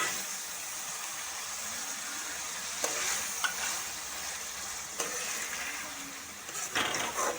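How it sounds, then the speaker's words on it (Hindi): Tomato paste frying in a pan for chicken fajita spaghetti, giving a steady close sizzle with a few soft stirring scrapes and no talk. "अब टमाटर का 1 प्याली पेस्ट डाल लेंगे।"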